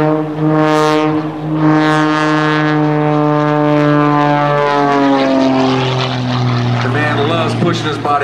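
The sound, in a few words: Extra 300 aerobatic airplane propeller engine during snap roll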